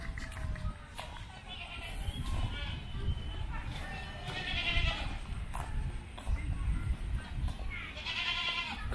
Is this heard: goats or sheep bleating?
yes